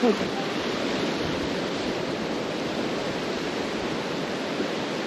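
Fast, deep river current rushing steadily in a canyon in Turkey, a dense broadband roar of moving water that holds loud and even throughout with no talk.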